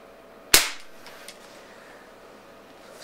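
A single sharp shot from an air gun tuned to about 400 FPS, a loud close crack with a short decaying tail, then quiet.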